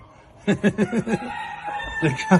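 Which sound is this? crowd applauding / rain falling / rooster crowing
rooster crowing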